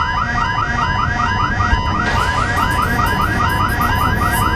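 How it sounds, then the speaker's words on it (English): A loud electronic spaceship main alarm in the video game Elite Dangerous repeats a fast warbling tone pattern without pause, steady and insistent, with faint background hum and no voices. "Main alarm! Main alarm!"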